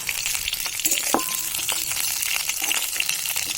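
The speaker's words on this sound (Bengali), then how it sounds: "এবার আমি নাড়তে থাকবো ভালো করে" Cauliflower and potato fry with five-spice in a pan, making a constant close sizzle while a spoon scrapes and clinks against the metal now and then as the pieces are stirred.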